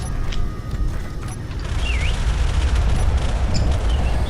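Video game gunfire in a sci-fi shooter with shields, heard as a dense continuous fusillade of rapid shots and bursts, loud and close, mixed with whooshing effects throughout.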